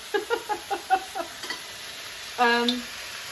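Chow mein being stirred in a wok: a rhythmic series of about seven scraping tosses, then a short loud burst of sizzling, close by with no talking.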